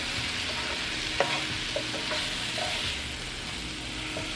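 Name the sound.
mushrooms and onions sauteing in a pan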